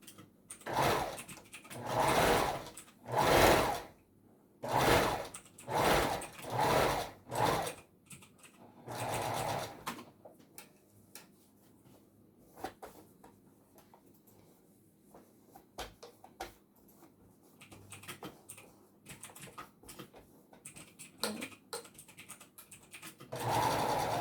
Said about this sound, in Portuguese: E aí, eu volto aqui pra costurar.